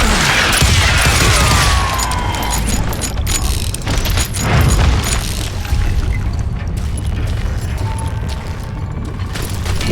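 A loud, close boom rips through a mine in the video game Call of Juarez Gunslinger, then a crackling, rumbling burst of debris follows and trails off into lower rumble.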